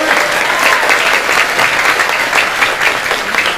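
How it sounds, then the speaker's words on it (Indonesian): At a large Islamic religious gathering in Tegal, a big crowd bursts into loud, dense applause that holds steady throughout, with no pauses. "Tepuk tangan untuk Indonesia"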